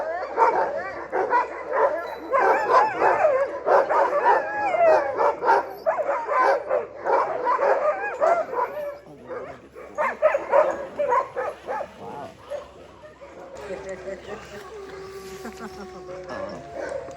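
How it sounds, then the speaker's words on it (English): Denali National Park sled dogs barking and yipping in a noisy chorus, repeated overlapping barks close by, easing into whimpers and quieter yips toward the end with a voice briefly heard. "sled dogs"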